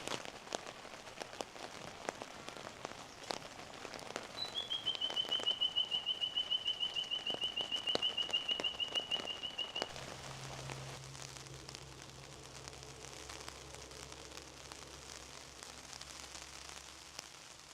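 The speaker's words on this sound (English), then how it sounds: "Oh, heavy rain." Heavy rain pours steadily on a surface on Cape York, a dense hiss throughout; a sustained high whistle-like tone sounds over it for several seconds midway, then a low hum joins the rain.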